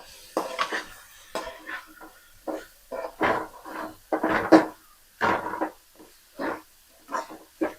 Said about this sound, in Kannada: ನೋಡಿ ಇವಾಗ ಬೀನ್ಸು, ಕ್ಯಾರೆಟು, ಕ್ಯಾಬೇಜು ಇಷ್ಟನ್ನು ಹಾಕ್ತಾ ಇದ್ದೀನಿ.